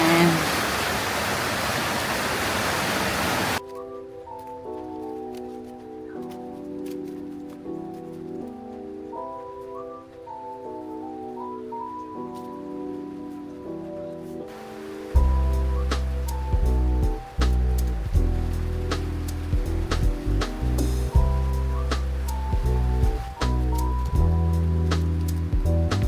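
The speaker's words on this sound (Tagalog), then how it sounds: "biglang lumakas yung ulan" Heavy rain falls on a home garden as a loud, steady hiss for a few seconds, then abruptly gives way to music.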